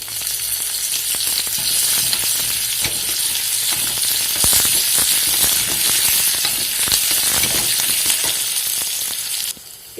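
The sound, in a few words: tempering of cumin, mustard, crushed garlic, curry leaves sizzling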